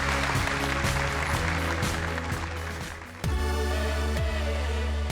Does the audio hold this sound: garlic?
no